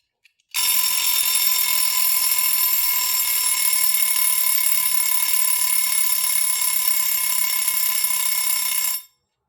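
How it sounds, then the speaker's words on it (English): A mechanical kitchen timer rings: a loud, continuous metallic bell rattle starts abruptly, holds steady for about eight seconds, then cuts off sharply, heard alone. "I've always loved the tick on this timer. And now, here comes that ring."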